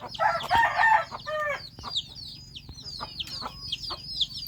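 A mother hen on a backyard poultry farm clucks in short, repeated bursts, close and fairly loud, with other chicken calls and a busy farmyard behind and no speech.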